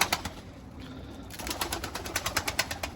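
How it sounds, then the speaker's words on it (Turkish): Domestic tumbler pigeons on a balcony, heard as soft, rhythmic pulsing coos repeating close by, with a brief quieter stretch before the calls resume steadily. "uzun bir aradan sonra kuşları çekeyim"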